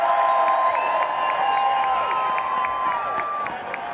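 A crowd at a women's rugby event applauds and cheers for the Seattle Saracen women, with sustained loud clapping and whoops filling the space, steady throughout and slightly fading at the end.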